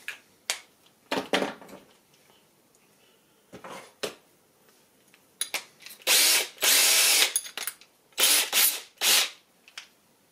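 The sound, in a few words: power drill drilling at marked point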